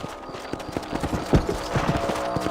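Horse hooves clip-clop at a steady riding pace in the PC game Red Dead Redemption, loud and close with no talk over them.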